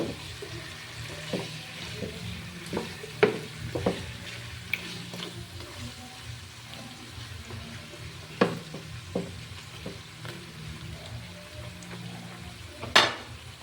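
Chicken frying in a pan is stirred, a steady low sizzle with scattered scrapes and knocks of the utensil against the pan, close and even with no talking.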